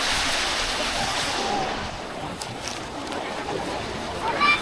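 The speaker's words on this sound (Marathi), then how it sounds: "भरती येते पाण्याला हा ना भरतीच आहे ना पाण्याची" Ocean waves at Juhu Beach, a steady broad rush of surf heard close by and continuing without a break.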